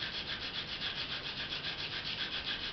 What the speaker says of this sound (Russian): Наждачная бумажка нужна номер 100.